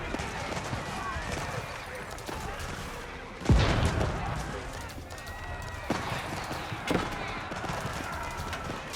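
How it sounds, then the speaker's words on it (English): Hand cannoneers fire in an Age of Empires 4 battle, sharp gunshot cracks scattered irregularly with one loud blast standing out, amid clattering combat noise and hoofbeats, while a commentator talks over it. "And Cannoneers firing away, getting some good damage."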